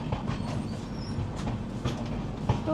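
A passenger train runs on its tracks, heard as a steady rolling rumble with faint rhythmic clicks from the wheels, continuous and fairly close, with no voices.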